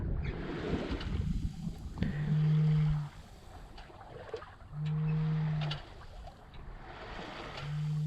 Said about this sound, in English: If you can hear in the background the foghorn from the buoy.